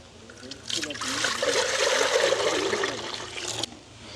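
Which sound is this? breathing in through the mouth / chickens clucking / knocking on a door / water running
water running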